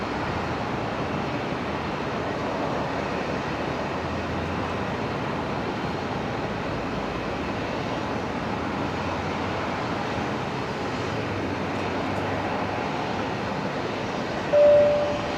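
An Airbus A320 airliner lands at Brisbane Airport at twilight, its steady broadband jet roar holding level and fairly close throughout, with no voices over it.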